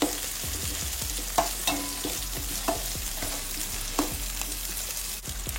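Small onions fry for a homemade fish gravy, giving a continuous bright sizzle in the pan, punctuated by several distinct spatula scrapes and knocks as they are stirred, close and with no talking.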